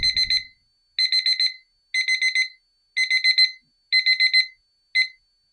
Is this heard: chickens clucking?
no